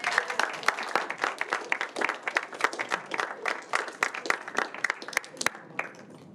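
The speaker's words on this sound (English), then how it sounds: "Goodness gracious, I didn't think I'd get any applause." Audience applause at a student surgical society debate night, steady rapid clapping from a modest crowd sustained for several seconds at moderate loudness, with no voices over it.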